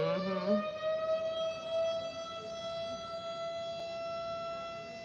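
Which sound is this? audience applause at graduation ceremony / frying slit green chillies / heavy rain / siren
siren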